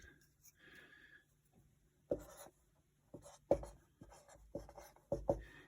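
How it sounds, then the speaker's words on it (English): Pen on paper while masses are written down by hand: quiet scratchy strokes and taps come in short irregular bursts, close and soft, with no voice. "So if we want to write the mass down of both substances, I'll do that right now."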